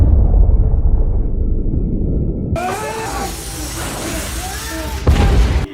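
A large explosion aboard a submarine in the film Kursk booms with a deep, loud rumble, then gives way to chaotic noise with voices and a second heavy surge near the end.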